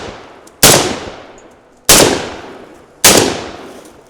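A Derya DY12Y shotgun fires three loud, sharp blasts about a second apart, each followed by a decaying outdoor echo.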